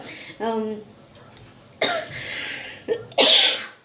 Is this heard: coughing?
yes